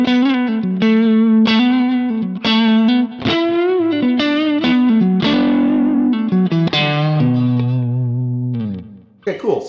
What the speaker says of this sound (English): I'm going to go to a neck pickup, and this is a Strat, so it's got some high end.